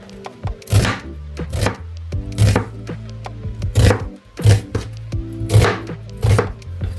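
A knife chops ingredients finely on a cutting board in a ramen recipe, giving about nine sharp, close knocks at an uneven pace, with quieter rubbing between strikes.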